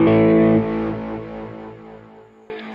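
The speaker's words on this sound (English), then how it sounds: "So this adds something, left side, right side, panning distortion sound, as you hear." Electric guitar through a Kemper Profiler with a panning distortion effect: one loud, thick distorted chord ringing out and decaying, then a fresh strum at the end, with no talking.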